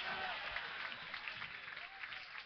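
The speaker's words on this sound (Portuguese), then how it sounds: "Quem pode aplaudir e gritar?" A church congregation at a pre-inauguration service for a new central temple in Portugal claps and cheers continuously, a dense, steady wash of applause mixed with raised voices throughout.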